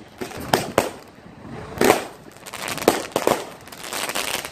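Rocket fireworks at a backyard display go off in a series of sharp bursts, several distinct pops and whooshing cracks spaced irregularly, fairly close and loud against a quiet background.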